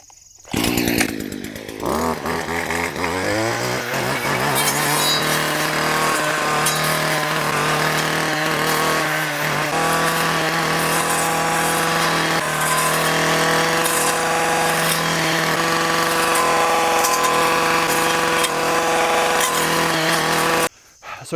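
A string trimmer fitted with a brush cutter blade revs up and clears brush along a trail, a loud, close, sustained engine whine with brief dips as the blade bites into growth.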